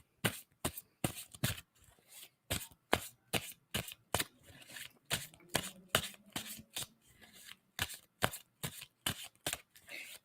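Tarot cards are shuffled by hand in a long series of crisp riffling bursts at a fairly steady rhythm, close and quiet, with no talking.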